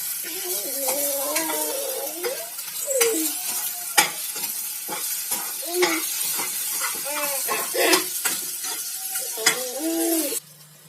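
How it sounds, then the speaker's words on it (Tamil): Beaten eggs are stirred and scraped around a hot pan, the spatula making repeated scraping strokes over a steady, close sizzle. "இப்போ நல்லா கிண்டி விட்டுக்குருவோம்"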